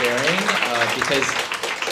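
An audience at a startup and AI talk gives a round of applause, a steady wash of clapping with a voice speaking over it throughout.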